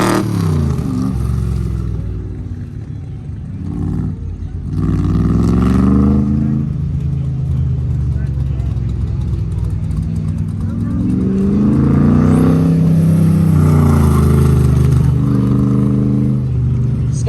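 A Factory 5 Cobra race car rounds an autocross hairpin into a box section, its engine roaring loud and close with rising and falling revs throughout, under an announcer talking.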